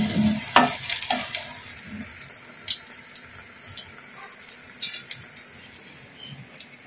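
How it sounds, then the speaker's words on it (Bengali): Eggplant fritters coated in gram flour batter with turmeric, salt, chili powder, nigella seeds and baking soda frying in hot oil, giving a steady crackling sizzle with sharp pops, loudest early and then settling into softer, even bubbling. "এবার বেগুনিগুলো ভেজে নেব।"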